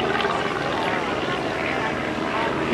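A Pitts S-2A aerobatic biplane flies a maneuver at an airshow, its propeller engine giving a steady, continuous drone, with an announcer's voice heard over it.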